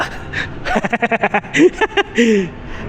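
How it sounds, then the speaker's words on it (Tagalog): A person panting and gasping for breath after running, outdoors at the Trans Studio Bali theme park: a quick series of short, close, rhythmic breaths followed by a couple of longer voiced gasps, with no talk. "Ha, hinihingal agad ako."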